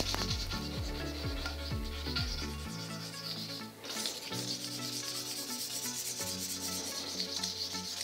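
A razor blade scrapes old glue from the metal surface of a Shopsmith planer under restoration, giving steady close rasping strokes with ratcheting, mechanical clicks and a brief dip in the middle.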